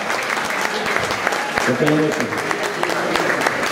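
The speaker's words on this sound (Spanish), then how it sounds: "por favor de nuevo un fuerte aplauso pero que derrumbe" An audience at a tribute event for Fruko in San Martín, Meta, keeps up sustained applause while someone talks over the clapping.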